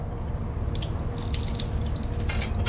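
Water gushing steadily and close from a tap, a continuous splashing rush with some brighter spattering, no voices.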